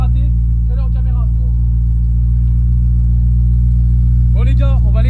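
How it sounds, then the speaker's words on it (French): Car engines idle steadily while warming up, producing a loud, constant low drone, with short bursts of someone talking over it near the start and the end. "on va laisser un peu chauffer les moteurs"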